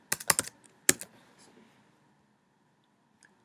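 Computer keyboard typing at a desk, a quick cluster of sharp close key clicks followed by a couple of isolated taps amid quiet.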